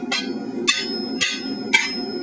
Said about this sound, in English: using a heavy hammer to flatten out the angle iron